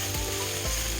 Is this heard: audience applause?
no